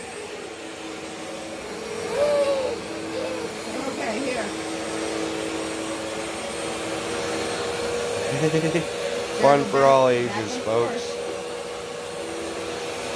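A Bissell CleanView Swivel Pet vacuum cleaner runs with a steady, loud whirring drone throughout, while people talk over it.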